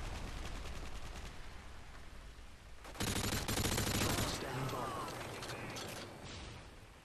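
Sustained game gunfire in Call of Duty: Modern Warfare 2 aimed at enemies on a bridge, a dense rattling burst that swells louder midway over a constant background of battle noise.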